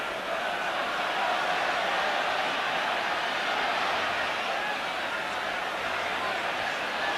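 A massed Arsenal crowd at a 1987-88 Division One game against Tottenham keeps up a continuous far-off roar of chanting, an even, unbroken blanket of voices from the stands.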